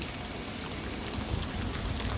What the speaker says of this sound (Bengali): আজকে যা বৃষ্টি হচ্ছে মনে হচ্ছে চারিদিকে জল জমে যাবে আজকে